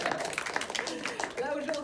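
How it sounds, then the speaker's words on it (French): An audience at a women entrepreneurs' lunch event claps in a brief burst of scattered, fairly close hand claps, mixed with people talking throughout. "on va même applaudir"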